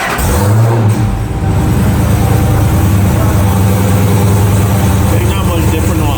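A modified Dodge Hellcat V8 with aftermarket intake and exhaust idles steadily, a deep, loud, continuous rumble close by, with voices heard talking over it.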